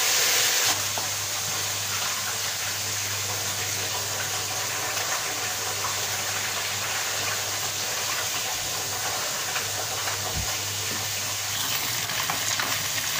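Fish, gourami or pompano, frying crispy in hot oil gives a loud, dense, unbroken crackling sizzle held at close range throughout, over a low steady hum, with no one speaking.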